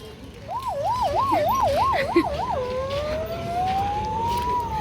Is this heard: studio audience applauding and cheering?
no